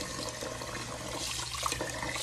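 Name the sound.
water running while washing something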